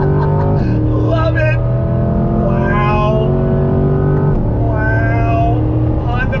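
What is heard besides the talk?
2020 Chevrolet C8 Corvette Z51 engine accelerating in second gear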